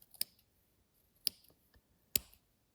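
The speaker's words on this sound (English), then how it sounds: "then take your scissors and trim them up to about the same" Scissors snip the edges of a crochet tassel in three sharp, separate cuts spaced about a second apart, close and quiet.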